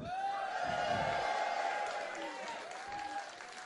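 Comedy stand-up audience cheering and applauding, a dense sustained wash of clapping and crowd noise with whoops and shouts rising over it, easing slightly toward the end.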